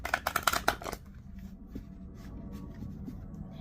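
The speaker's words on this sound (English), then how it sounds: "So I'm just shuffling up these cards" Tarot cards are shuffled by hand in a quick burst of crisp riffling flutters for about a second, followed by quiet handling and soft rustles.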